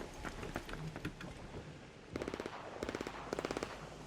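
Distant gunfire in the game Arc Raiders, rapid bursts of automatic fire rattling in short volleys over a noisy, rain-like background, faint and far off with no voices.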